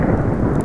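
Thunder in the survival game Subsistence rolls as a short, dense, loud rumble, a deep continuous roar filling the moment with no voices.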